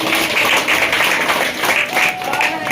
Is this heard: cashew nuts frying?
no